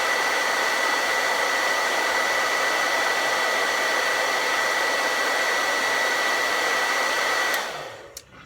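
A hair blow dryer runs on high, blowing a ping pong ball in a loud, steady whirring roar with a constant whine. It stops abruptly near the end, and no one speaks.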